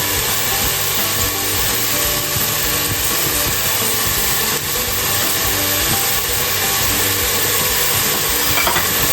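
Garlic sautés slowly in a pan, giving off a steady, even sizzle that holds at a constant level without pause.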